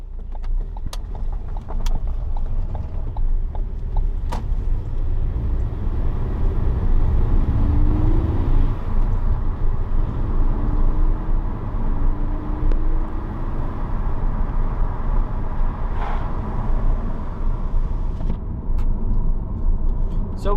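A Ford Focus ST with a newly installed Spec Stage 2 clutch kit drives on the street, giving a steady, loud cabin rumble of engine and road noise with faint whines and a few light ticks.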